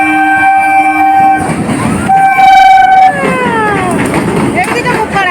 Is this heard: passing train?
yes